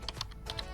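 A few quick taps on a computer keyboard, four or five soft keystrokes close by in under a second.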